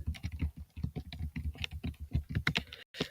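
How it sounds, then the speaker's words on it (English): Fingers tap steadily on a computer keyboard, entering information into a website: quick, uneven clusters of close keystrokes with brief pauses, and no voices. "we're just going to type in my information here"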